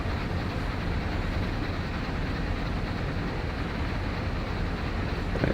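A freight train rolling along inbound to Cresson in Train Sim World 2, a steady low rumbling drone of engine and rails that stays constant and close throughout with no voices.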